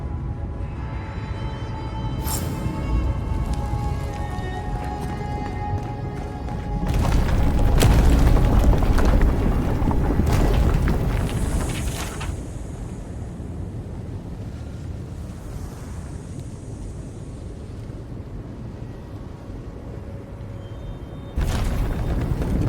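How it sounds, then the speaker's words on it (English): A big explosion in the video game Avowed, a heavy low rumbling boom that swells in the middle and fades into a long roaring tail, with sharp cracks before and after over a steady background rumble. "That was a damn big explosion, wasn't it?"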